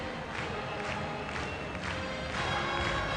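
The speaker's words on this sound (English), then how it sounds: "Ann Richards now hears ringing in her ears the applause, rhythmic applause, and the eyes of Texas." A large convention-hall crowd at the 1988 Democratic National Convention claps in a steady rhythmic pulse, with cheering mixed into a broad, roomy roar that holds at a fairly even level.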